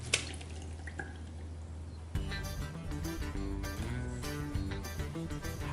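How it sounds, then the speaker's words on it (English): Water runs and splashes over cooked soba noodles being rinsed in a kitchen, a steady wet hiss for about two seconds before music takes over. "Rinse it to take the slime and take all the extra water as much as you can."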